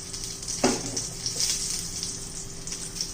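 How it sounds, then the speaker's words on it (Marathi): Bitter gourd frying in oil in a pan over medium heat, a steady close sizzle with a sharp burst as more oil is added at the side, no voices. "तर हे पहा थोडंसं साईडने तेल घालूया."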